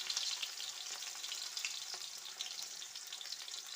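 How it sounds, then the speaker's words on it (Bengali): Chopped onion frying in hot oil in a kadai, a bright continuous sizzle with crackling pops, heard up close and fairly quiet, with no talking. "এইদিকে আমি কড়াইতে তেল দিয়ে দিয়েছি। তেল দিয়ে এই যে পেঁয়াজ কুচিতে দিয়ে দিচ্ছি।"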